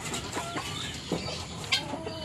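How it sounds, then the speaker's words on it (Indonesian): Several chickens of mixed breeds cluck in short bursts around a home yard, with occasional sharper squawks standing out, fairly close and without talk. "Ayamnya macam-macam."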